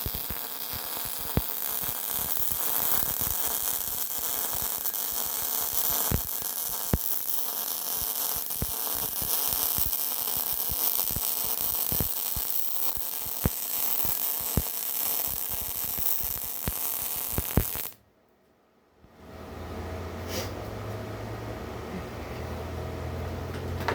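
A Bestarc multi-process welder burns across unground, rusty steel with a steady crackling buzz and sharp pops for about eighteen seconds. The arc then cuts out briefly, and a lower hum follows.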